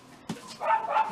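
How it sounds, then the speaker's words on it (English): Neighbours' dogs bark in a short, faint burst of a few yaps in the background, heard from some distance indoors. "I'm sorry about the dogs barking."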